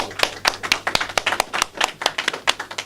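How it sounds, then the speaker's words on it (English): An audience at a chocolate shop launch event gives a round of applause, with crisp, fairly distinct claps in a quick uneven patter from a modest crowd, close and steady for a few seconds. "Round of applause for"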